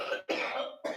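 Harsh, rasping coughs come in a quick burst of three, close and loud, with short gaps between them.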